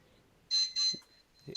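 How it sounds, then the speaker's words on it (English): A high-pitched electronic thermometer alarm beeps in a few sharp bursts during an online meeting, with a faint steady tone lingering between beeps and brief low sounds in the background. "Does anybody have a high-pitched alarm going off in the background?"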